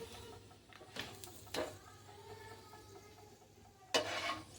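Mughlai paratha stuffed with egg, onion and green chilli frying in a pan, with a soft low sizzle and occasional scraping and stirring knocks from a spatula, quiet and close.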